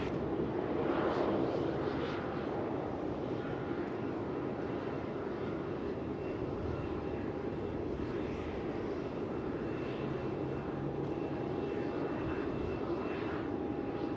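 Jet aircraft engines roar at Melbourne Airport, a loud, steady, close drone with a faint whining tone held throughout and no speech.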